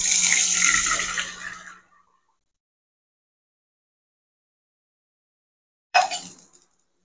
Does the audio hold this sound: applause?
no